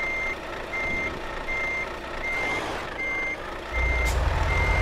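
Reversing beeps from a seventy-tonne Volvo truck in Euro Truck Simulator 2, a steady chain of evenly spaced electronic beeps over low engine rumble, with a louder engine surge near the end.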